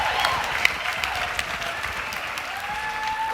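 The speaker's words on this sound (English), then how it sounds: "Let's give him a round of applause." At a Paul Mitchell hair show, an audience applauds a male model on stage with brisk, crowded clapping and a few sharp claps standing out, with faint cheering tones mixed in.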